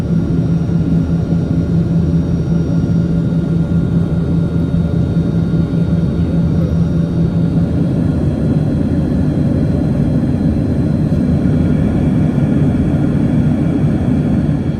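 Cabin drone of a 40-year-old Soviet Yakovlev Yak-40 jet in flight with Ivchenko AI-25 engines, a steady loud low roar with faint whining tones, continuous and with no talking.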